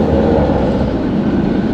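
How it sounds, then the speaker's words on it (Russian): A tram on route 6 in Kharkiv, running again after track repairs, rolls past with a loud, steady rumble of wheels on rails, close by and alone, with no voices. "Вот и трамвай проехал."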